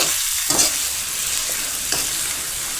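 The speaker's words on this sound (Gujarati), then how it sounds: "આપણે મીડિયમ ગેસ પર દૂધીને સડવા દઈશું" Finely chopped bottle gourd frying in a pan over a medium gas flame for a mango and gourd curry gives a steady, close sizzle, with soft stirring scrapes and no talk.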